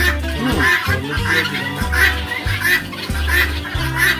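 A flock of chickens on a poultry farm clucks and squawks loudly and continuously, overlapping calls repeating in an irregular rhythm close by.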